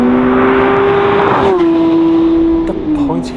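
A Porsche 992 GT3 Manthey sports car drives at speed, its loud engine a steady high-pitched drone that drops in pitch with gear changes, heard from close by.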